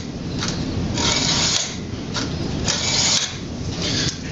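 A sheet metal bend is scored for a Pittsburgh joint, giving loud, close, continuous rasping scrapes in several long strokes with brief pauses, and no talking.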